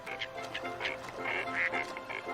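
Water birds, ducks, quack on winter ice in a short run of several nasal calls, moderately close against a quiet cold background.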